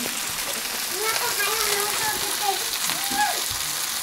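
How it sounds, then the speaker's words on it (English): A steady, broadband bubbling hiss of water boiling in a pot, constant throughout, with faint voices murmuring underneath. "Okay, water is boiling."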